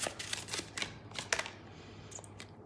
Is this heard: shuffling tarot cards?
yes